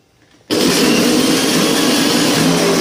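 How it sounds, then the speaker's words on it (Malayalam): A mixer grinder whirs loudly as it blends garlic and salt in its jar, starting abruptly after a brief quiet moment and then running as a steady, close, unbroken drone. "ഒരു സ്പൂൺ ഉപ്പ് ചേർത്ത് ആദ്യം ഒന്ന് ഇതിനെ മിക്സിയിൽ ജാറിലിട്ടിട്ട് ഒന്ന്"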